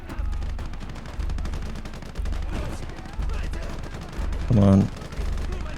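Gunfire in the World War II strategy game Gates of Hell: Liberation, with rapid machine-gun bursts repeating in rhythmic volleys and a louder blast near the end, while someone speaks briefly over the battle.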